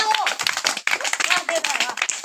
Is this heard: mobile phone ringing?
no